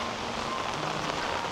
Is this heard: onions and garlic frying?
no